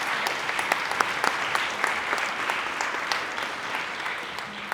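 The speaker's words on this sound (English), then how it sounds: "So give Joe a big round of applause" An audience at an awards ceremony applauds an award recipient, a steady crowd of hands clapping at even strength with scattered louder claps, continuous and moderately close.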